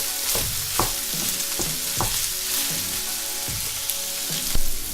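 Pork for Thai basil pork frying in a pan, a steady close sizzle punctuated by repeated rhythmic stirring scrapes and knocks of a utensil.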